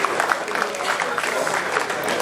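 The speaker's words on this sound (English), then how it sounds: "Give him a round of applause." An audience breaks into applause, a brief burst of dense, mid-loud clapping from a crowd.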